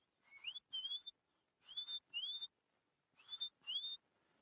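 A small bird gives repeated whistled alarm calls, paired rising notes in three bursts, clear and fairly close against a quiet backdrop in the Mara Triangle savanna.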